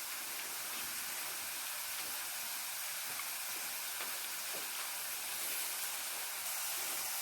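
Potato french fries frying in hot oil, a steady dense sizzling hiss with faint crackles throughout, close and continuous with no talking.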